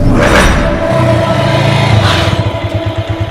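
Car engines rumble and idle close by in a steady, loud drone in a traffic jam, with a slight rev rising near the end.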